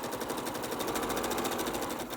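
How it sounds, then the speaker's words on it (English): A sewing machine stitching a chicken quilt block, with a steady, rapid mechanical chatter held at an even, moderate loudness and no pauses. "put it over the top of the block, the next block, and just keep sewing"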